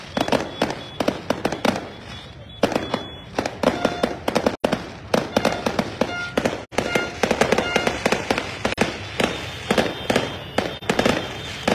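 Fireworks and firecrackers crackle and pop in dense rapid bursts as Napoli football fans celebrate the team's arrival at Capodichino, loud and continuous with sharp bangs, crowd noise beneath.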